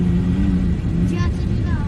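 Baja pre-runner style truck engine revving loudly and steadily up close, a deep continuous rumble under voices speaking over it.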